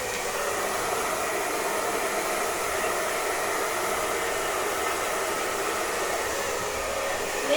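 A hair dryer blowing steadily at close range during a hair spa session for long, thick hair, a constant loud whooshing roar with no change in pitch and no voices.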